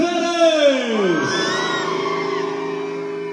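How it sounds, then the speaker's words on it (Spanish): Women in the crowd at a marimba dance night at Salón Kilpatrick in Alabama let out a loud, high, swooping shout that falls in pitch. It blends into sustained cheering and yelling for several seconds. "¿Dónde está el grito de las mujeres?"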